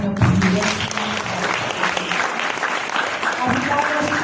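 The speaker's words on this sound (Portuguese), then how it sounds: "uma salva de palmas também para o Sr. Presidente" An audience at a journalism event applauds the president in a steady wash of clapping, dense and even from start to finish, with faint voices mixed in at the outset.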